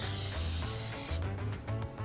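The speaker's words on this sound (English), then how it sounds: "We're going to use a little pan spray today." Cooking spray hisses onto a baking dish in a kitchen as a strong, close, continuous spray, then breaks into a few shorter bursts.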